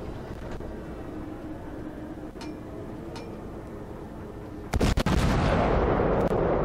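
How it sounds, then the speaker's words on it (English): Naval guns fire at an enemy destroyer in a warship video game. A few faint distant thumps lead into one loud, sudden blast that leaves a dense, sustained roar. "I'm in a position where I can fire at this destroyer and not be destroyed by those enemy cruisers and battleships"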